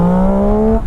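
A Triumph Street Triple inline-three motorcycle revs hard at night on a Hyderabad street, a loud close engine howl climbing steadily in pitch for under a second before cutting off.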